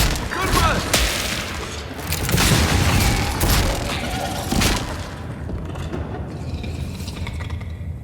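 Gunfire during combat in the Avowed fantasy video game, a run of loud booming shots and mechanical clatter through the first five seconds, then fading to a quieter rumbling tail.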